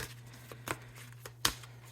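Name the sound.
shuffling tarot cards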